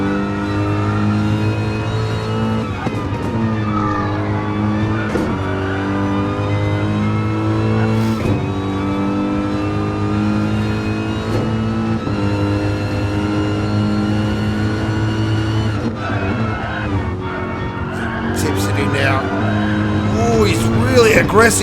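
Big Mercedes AMG race car charging hard around Brands Hatch GP in an online racing game. A loud, continuous engine roar climbs and drops through repeated upshifts and downshifts, with brief tire squeals and a commentary voice talking over it.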